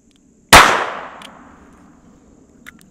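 A single sharp .22 Long Rifle gunshot fired into a test block faced with two layers of denim, loud and close, with a long ringing decay and a faint metallic clink after.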